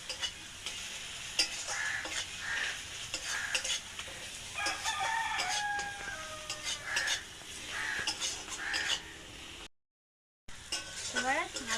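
Coriander leaf paste is stirred into sizzling masala in a pan for an egg dish, with repeated spatula scrapes over a steady frying hiss and a rooster crowing in the background.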